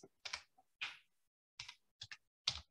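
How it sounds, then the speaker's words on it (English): Someone types a short search term on a computer keyboard, producing a few quiet, scattered key clicks in small bursts with pauses between them. "So we can just type in Mygov"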